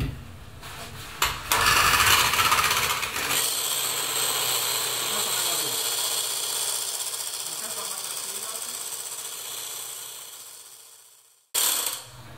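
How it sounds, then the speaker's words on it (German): A balloon whisk beats egg whites for a pistachio tiramisu, giving a steady fast metallic whirring rattle after a few sharp clatters, fairly close, then it stops and briefly resumes. "wir machen zuerst mit dem Schneebesen. Dann das Eiweiß schlagen wir fest."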